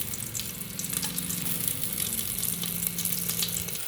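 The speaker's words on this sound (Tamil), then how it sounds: "இப்போ பட்டை, சோம்பு, கிராம்பு எல்லாத்தையும் போட்டு தாளிச்சிக்கலாம்." Cinnamon, fennel seeds and cloves sizzle in hot oil for a vegetable biryani, a steady close crackling fry with no voices over it.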